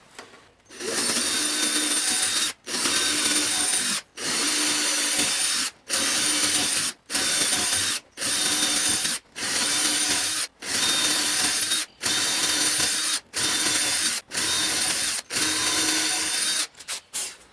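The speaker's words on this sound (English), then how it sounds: "I drilled those smaller holes first in the hopes that my bit doesn't drift much when I do these bigger ones" A power drill bores larger holes through wood for a band saw circle jig, a loud, steady high-speed whine in about ten repeated bursts of roughly a second each, separated by brief silent pauses.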